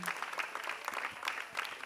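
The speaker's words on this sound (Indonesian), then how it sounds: "tepuk tangan dong semuanya" Audience applause at a Wayang Kampung puppet show, dense steady clapping from a crowd filling the whole stretch, fairly close and even in loudness.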